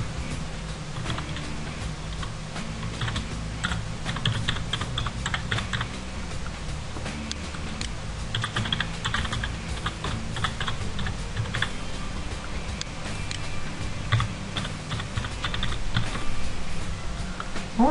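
Steady clicking of a computer keyboard as someone types an email address into a web form, keystrokes rapid and close, alone with no talk over them.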